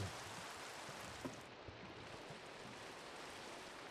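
Rain in a zombie survival video game, a steady, even hiss of falling rain lasting throughout at low volume, with no talking.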